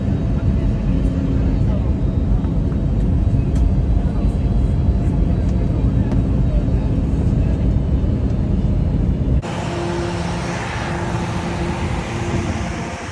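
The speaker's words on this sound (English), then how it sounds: "We're landing in Denver." Airplane cabin during landing at Denver, a loud steady roar of engine and airflow that drops in level and shifts character near the end as the plane slows, with faint voices in the background.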